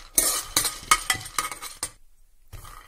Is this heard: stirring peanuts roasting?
yes